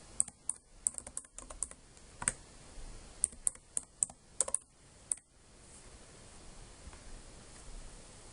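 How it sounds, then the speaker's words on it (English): Username and password being typed on a computer keyboard, with sparse, quiet key clicks in uneven bursts over a low hiss that stop partway through, leaving faint background noise. "enter your username and your DEAC cluster account password and click Login."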